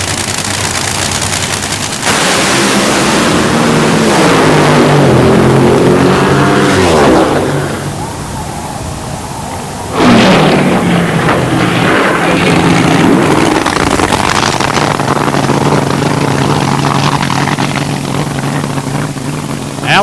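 Drag racing cars thunder through a qualifying run at Sonoma, with Eddie Hill and Scott Coletta racing side by side before a high-speed crash: two long, very loud engine roars separated by a brief dip.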